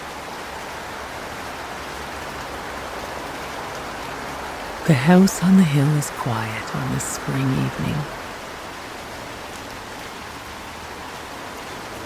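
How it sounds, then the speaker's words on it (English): Soft, continuous rain on garden grass and terrace flagstones on a spring evening, a gentle even hiss throughout, with a calm voice speaking briefly over it partway through. "The rain falls softly on the grass in the gardens and plinks musically on the flagstones of the terrace."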